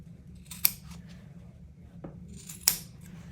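Scissors cut a Velcro strap while a CMC orthosis is being made, producing two crisp, close snips about two seconds apart, with a faint click between them over quiet room hum.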